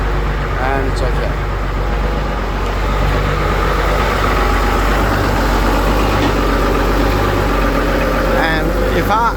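A car engine idles at low rpm with a steady, loud, low rumble that runs the whole time, close to the mic and near stalling, while someone talks over it.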